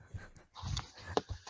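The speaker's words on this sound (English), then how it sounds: "the dogs are enjoying it so much" Dogs panting and snuffling close by, a quick breathy rhythm with a brief whimpering snort, short and fairly quiet.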